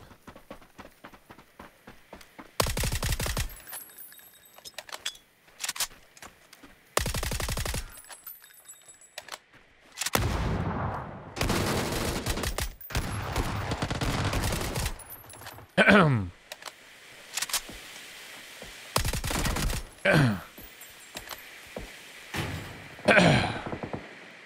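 PUBG gunfire on the Haven map comes in loud bursts of automatic fire. Rapid rattling volleys alternate with short gaps and scattered single shots, and footsteps and game noise sit in between.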